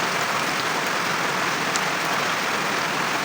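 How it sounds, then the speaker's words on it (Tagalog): Rain falls steadily outside during cooking, a constant dense hiss of drops on surfaces with no break. "Ang ulan."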